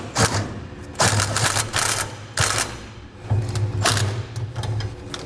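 A 3/4 inch socket tightening bolts during a Curt gooseneck trailer hitch install on a 2015 GMC Sierra, heard as repeated loud mechanical ratcheting bursts with short pauses between them, close up and alone.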